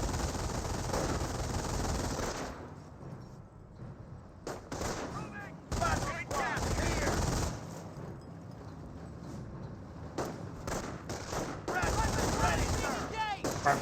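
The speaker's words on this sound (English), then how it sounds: "Now the rifle squad is seeing a bit of fire there now" Rifle squad taking fire in the Company of Heroes 1 strategy game, dense bursts of gunfire and machine-gun rattle mixed with battle noise, continuous and fairly loud throughout.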